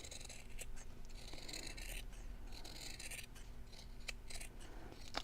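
Scissors cutting around the edge of a Japanese fabric, a quiet continuous rasp of blades snipping and sliding through cloth, close and faint without talk.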